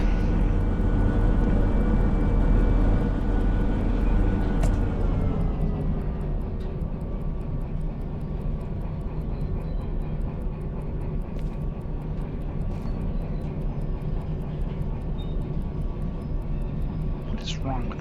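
A train locomotive in the video game Derail Valley is put in reverse and throttled up, giving a steady, loud engine drone with a tonal whine that shifts after a few seconds and keeps running.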